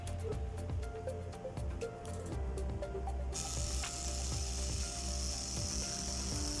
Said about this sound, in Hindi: अब राड कटिंग हो रहे हैं